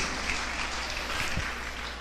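A church congregation applauds during a sermon, a dense, continuous wash of clapping filling the short moment at an even level.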